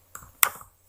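Brief keystrokes on a computer keyboard as a web address is typed into a Chrome browser, two quick clicks a moment apart, close and fairly crisp, with no voices.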